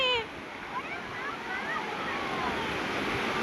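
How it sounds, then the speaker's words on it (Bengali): Sea waves surge and splash around a boat on a night trip, a steady rushing wash of water with wind noise close by, continuous throughout. "মারাত্মক ঢেউ হচ্ছে, প্রচন্ড পরিমাণে ঢেউ হচ্ছে।"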